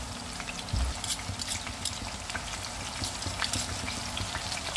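Minced pork with oyster sauce stir-frying in a pan, a steady close sizzle with a few scraping stirs and a brief low knock near the start, no talking.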